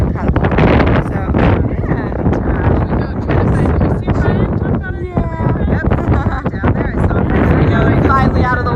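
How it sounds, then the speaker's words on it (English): Strong wind buffets steadily along the Hawaiian ocean shore, roaring continuously and close throughout while people talk over it. "it's starting to get all windy on us"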